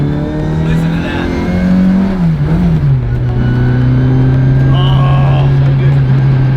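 A 1964 Morris Cooper S engine fitted with straight cut gears, a steady loud drone with a gear whine that dips and settles as it revs during a fast ride, with people talking over it.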